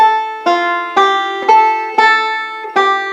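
Banjo playing a forward-roll passage, measure 19 of a lesson exercise, with a ring-finger release: six clear plucked attacks roughly half a second apart, each ringing and decaying, bright and close, no talking.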